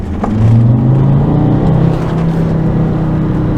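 An Alfa Romeo car accelerating hard in a power pull, a loud, close engine note rising steadily in pitch across a few seconds, heard alone without talk.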